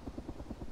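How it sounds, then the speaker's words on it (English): In Arma 2: DayZ, a helicopter flies somewhere nearby, its rotor thumping in a steady, fast pulse as a low, muffled drone that stays quiet and even through a brief moment. "there's a chopper!"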